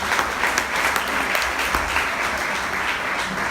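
Audience applause fills the room in a dense, steady wash of clapping that holds evenly at a fairly loud level throughout, with no voices heard over it.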